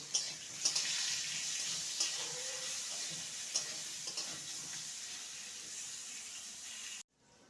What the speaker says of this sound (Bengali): আর হলুদ গুঁড়ো আলুটাকে লাল করে ভেজে নেব